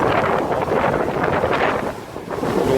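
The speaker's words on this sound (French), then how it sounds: "Là, il y a 20 nœuds de vent." Strong wind of about 20 knots buffets a sailing catamaran at sea at night, a loud continuous roar of wind across the microphone with rushing water beneath.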